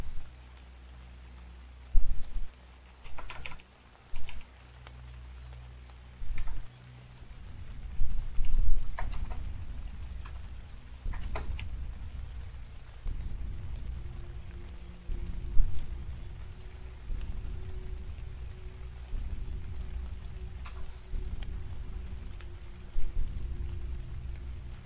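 Rain in the survival game Cataclysm DDA, a soft steady patter with scattered louder drops and taps, fairly faint and continuous, with no voices.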